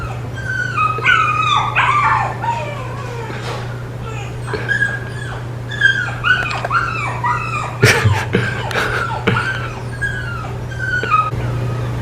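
A dog whimpers and yips in high, wavering cries and squeaky yelps, close by, over a constant low hum, with a few sharp bumps in the middle and occasional human voices mixed in.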